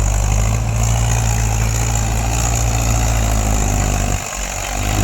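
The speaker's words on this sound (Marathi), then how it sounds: "महिंद्रा ट्रॅक्टर" A Mahindra tractor engine runs loud and close with a steady low rumble, dipping briefly near the end before recovering.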